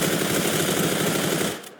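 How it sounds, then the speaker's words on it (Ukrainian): A loud, rapid burst of automatic machine gun fire in the video game Combat Arena rattles continuously, then cuts off abruptly at the end. "А, я стріляю."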